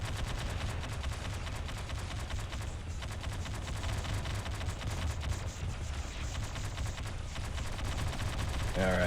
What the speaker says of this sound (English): I have no idea what you guys are firing at.